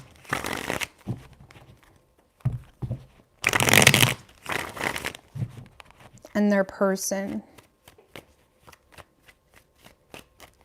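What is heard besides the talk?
tarot cards being shuffled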